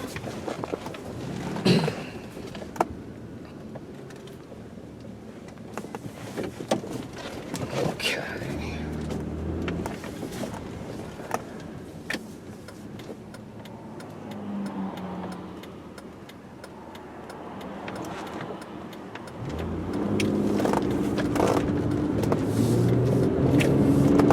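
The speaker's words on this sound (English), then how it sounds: "get a feel for how this car kind of, you know, accelerates and moves up, shifts up through the gears" A 2002 Buick Rendezvous FWD accelerates from inside the cabin, engine hum rising and dropping as it shifts up, with clicks and knocks along the way and a louder surge near the end.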